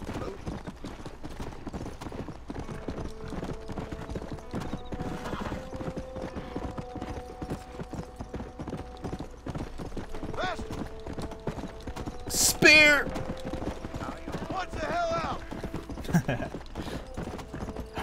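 Steady rhythmic hoofbeats of a galloping horse in the video game Red Dead Redemption run throughout, with a brief whinny-like burst midway and game-style background noise underneath.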